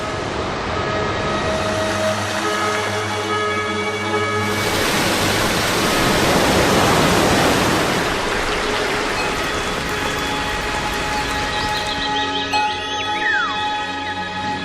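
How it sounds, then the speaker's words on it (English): Steady roaring rush of falling water, loud and continuous, swelling in the middle with a faint tonal hum underneath. "the rain, which rushes down in countless waterfalls"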